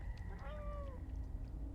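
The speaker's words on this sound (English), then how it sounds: "you can hear our friends meowing down the hole" Cats meow down a sewer hole in the video game Stray: a faint, muffled, drawn-out meow rising and falling over a low background rumble, with no one talking.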